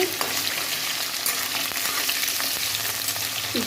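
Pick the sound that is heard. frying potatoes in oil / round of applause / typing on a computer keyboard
frying potatoes in oil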